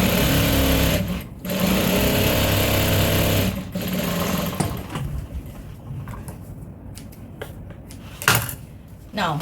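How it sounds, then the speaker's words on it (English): A sewing machine stitches the seam of an African print tote bag, running in loud rapid bursts with brief pauses. It then falls to quieter handling sounds and clicks near the end. "Sew the second side with half of an inch."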